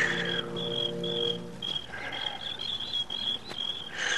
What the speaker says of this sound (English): The sound of birds and crickets seemed loud in my ears